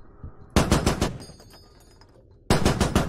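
Gunfire in the Squad military shooter, a rapid close burst of automatic shots followed by fainter distant reports, then another loud burst begins at the end.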